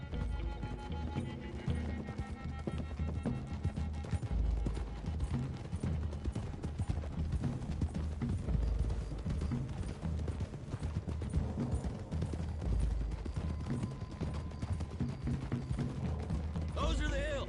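Several horses trot along a hillside road in Red Dead Redemption 2, hooves clip-clopping steadily and continuously under a rumbling, busy mix.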